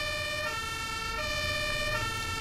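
Fire engine siren from the OMSI 2 bus simulator, wailing steadily in a repeating two-tone pattern close behind a city bus in Düsseldorf, loud over a low engine rumble.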